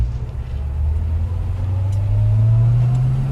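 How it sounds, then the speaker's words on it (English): A 1966 Ford Mustang engine revs upward, its low drone rising steadily in pitch and loudness over a few seconds, close and continuous. "The best part about these motors, which you're gonna find out shortly, is they like to rev high."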